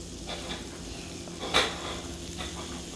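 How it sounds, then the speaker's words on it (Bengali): Potatoes lightly frying in a pan while cooking khichuri, a soft continuous sizzle with a brief sharper clatter of a utensil midway, close and without talk. "এবার আমি আলুগুলো হালকা ভেজে নিচ্ছি"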